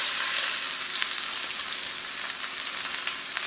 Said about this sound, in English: we have this browned on all sides